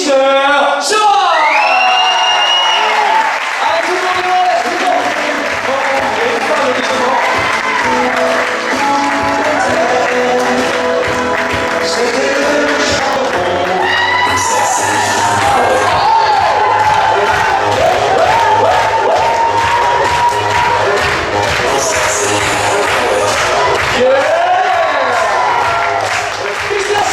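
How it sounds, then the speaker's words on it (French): An evening crowd at a Menorca holiday resort applauds, cheers and whoops for a staff presentation, with loud, sustained clapping and scattered shouts and whistles throughout, with voices mixed in. "je voudrais un tonnerre d'applaudissements pour notre et votre chef de village, Mister Chora."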